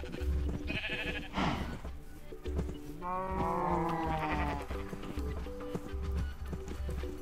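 A pink sheep in Minecraft bleats amid a busy game soundscape, with a clear wavering bleat in the middle over layered background game sounds.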